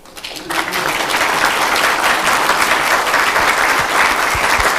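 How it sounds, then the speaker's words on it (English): Audience applause after a community question-and-answer talk by the executive artistic director of the SD Shakespeare Festival: dense, steady clapping that swells in quickly and holds loud and close for the whole stretch. "that applause goes both ways"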